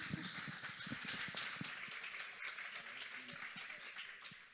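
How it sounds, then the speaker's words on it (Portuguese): Church congregation clapping during a Friday evening worship service, a dense patter of many hands that carries steadily throughout at moderate distance, with voices faintly mixed in. "Vão aplaudam ao Senhor."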